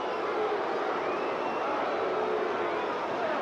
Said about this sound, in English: the crowd is getting on him